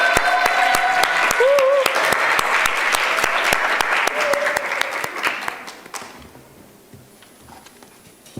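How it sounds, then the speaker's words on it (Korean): Audience applause at a conservative conference on North Korea and Korean unification, a dense burst of clapping that holds steady for about five seconds, then thins into scattered claps and fades out. "다시 한번 큰 박수 부탁드립니다."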